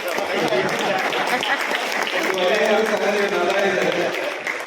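Applause from an audience at a career talent event held by a community organisation and pensioners' council, a dense patter of clapping mixed with voices speaking over it.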